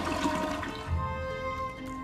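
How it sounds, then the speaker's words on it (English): A toilet in the video game Luigi's Mansion 3 flushes with a steady, loud rush and swirl of water that holds for the whole moment, with no talking over it. "Why can't I flush this one?"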